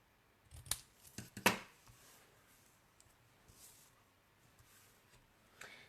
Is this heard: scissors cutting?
yes